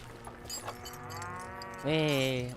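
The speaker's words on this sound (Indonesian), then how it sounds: "Ada sapi." A cow moos in a cowboy-themed video game, one long drawn-out low call followed by a louder, rising bellow, close and clear over a faint background of game sound.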